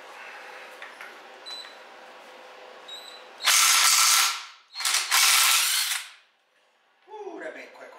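A ratchet and socket spin the pinion gear nut off a GM 8.2 10-bolt rear axle from a 1968 GTO, two loud close bursts of fast clicking with a short break, then a quieter clatter.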